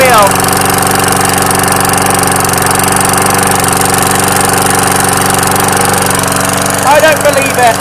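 A lawn mower engine runs steadily after being started with snow covering it and blowing out of the flywheel, a loud, close, continuous idle with a rough knocking edge, while voices talk over it near the end.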